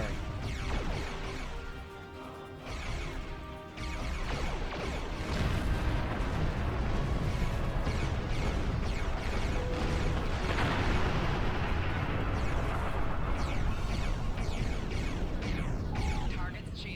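Starship weapons fire in the video game Star Trek Online, with dense booming and crackling bursts that build into a sustained roar of space combat. It is loud and continuous, with no talking.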